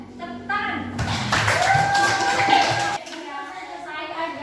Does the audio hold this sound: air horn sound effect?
no